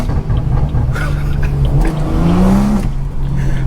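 A straight-piped BMW 340i with the B58 engine revs loudly up close, its exhaust snarling and rising in pitch through a sharp climb before settling back.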